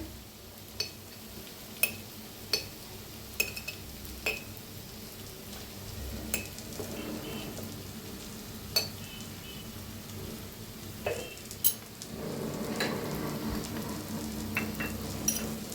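Tomato, onion and red chili powder fry in a pan with coriander powder and turmeric, a soft steady sizzle under sharp spoon taps and clinks on the pan, with stirring that grows louder near the end.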